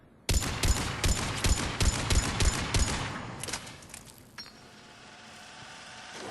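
Mattock rifle in Mass Effect 3 fires about eight sharp, evenly spaced shots in quick succession, loud and close, followed by fading ringing and quiet ambience.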